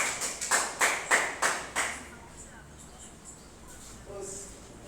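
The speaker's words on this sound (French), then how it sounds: "On applaudit pour nous-mêmes." A short burst of clapping, around seven quick claps that fade out, followed by quiet room noise and a faint voice, from children at a karate class.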